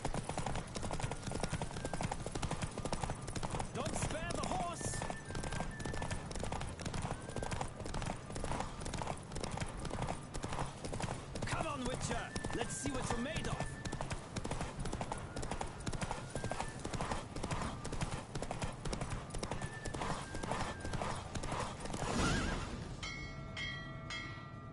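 Horse galloping flat out in a race in The Witcher Wild Hunt, continuous rhythmic hoofbeats over a thick bed of music and effects, easing off near the end.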